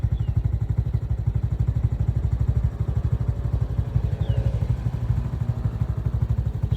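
A vehicle engine while driving along a road, a low steady pulsing rumble heard from inside, continuous with no talking.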